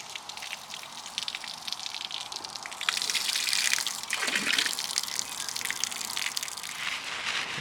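Water rinsing over a narrowboat roof on a hot day, a steady close splash and patter that grows heavier partway through.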